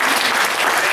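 A crowd applauds graduating Northwood High seniors at a graduation party, a brief burst of dense, continuous clapping filling the room.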